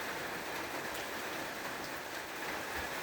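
Steady outdoor rain falls continuously, a dense even hiss of drops on surfaces close by, with no talking over it.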